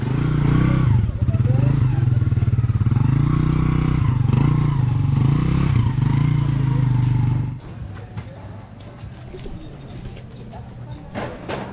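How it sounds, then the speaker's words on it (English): Passenger-size motorcycles roar loudly nearby on a mountain road, then fade after a few seconds into quieter rattling and distant engine noise. "So these are all passenger size motorcycles."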